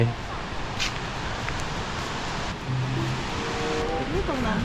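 Steady broadband rush of water at Khlong Nam Lai waterfall in Kamphaeng Phet, heard close and continuous, with faint background sounds and a few brief tonal chirps.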